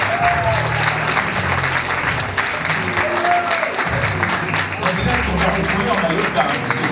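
Audience applause for teen pageant candidates at a Miss Teen France casting, a steady wash of clapping that fills the whole stretch, with a voice speaking faintly underneath and music-like tones in the background.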